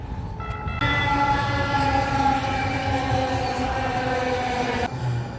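A train passes close to the Buffalo Bayou bike trail in downtown Houston, sounding a loud, sustained horn with layered tones over rumbling wheels for about four seconds before cutting off.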